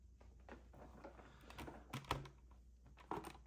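Keys being typed on a CD108 mechanical keyboard with Cherry MX switches, making sparse, irregular clicks and clacks that are close and fairly quiet, with no voices.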